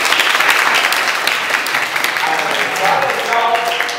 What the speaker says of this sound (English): The audience started applauding.